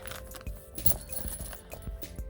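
Keys jingle and clink briefly as they are tucked into a small crossbody bag, a soft, close metallic rattle with a few light knocks.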